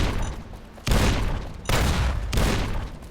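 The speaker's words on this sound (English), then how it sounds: "there's a lot of explosions" Three heavy bursts of explosions in Fallout New Vegas, each a loud broadband boom with a rumbling decay, spaced roughly a second apart over constant background noise, with no talking.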